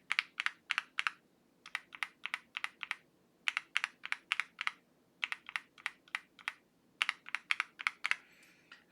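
Typing on lubed and filmed linear switches on a Mr Suit mechanical keyboard, steady clusters of crisp, even keystrokes in rhythmic bursts with short pauses, close and clear with no talking.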